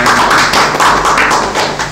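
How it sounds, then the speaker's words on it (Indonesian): A small studio group on a podcast claps loudly and close for Valen. The claps are quick and somewhat rhythmic and hold steady for about two seconds. "Tepuk tangan untuk Valen."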